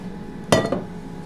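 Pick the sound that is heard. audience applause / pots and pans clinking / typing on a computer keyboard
pots and pans clinking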